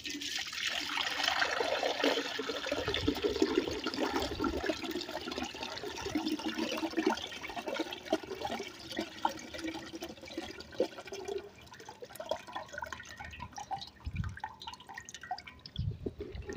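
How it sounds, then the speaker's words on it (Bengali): Water, used for soaking onion peels, pours through a kitchen sieve in a steady trickling stream that thins into drips and faint dribbles toward the end, close and fairly quiet with no talking. "এই দেখুন জলটা ছেঁকে নেবেন।"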